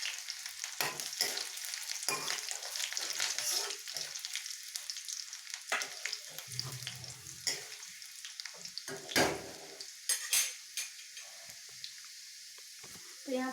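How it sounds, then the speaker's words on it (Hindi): Chopped garlic frying in hot oil with cumin and nigella seeds for a beans and onion sabzi, a steady close sizzle broken by stirring scrapes and a few sharper pops, with brief faint clatter and water sounds near the end. "अब हम इसमें कटे हुए लहसुन डालेंगे और इसे भी 1 सेकेंड के लिए भून लेंगे।"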